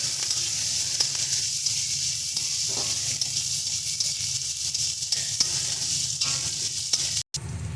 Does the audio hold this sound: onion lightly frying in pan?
yes